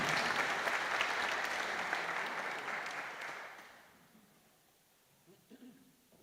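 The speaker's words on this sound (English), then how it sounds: "would you give a round of applause to Shane Herity?" Audience applause for a singer at a Comhaltas Ceoltóirí Éireann gathering in Castletown Geoghegan, loud sustained clapping from a full room that gradually fades out over several seconds, leaving quieter stray sounds.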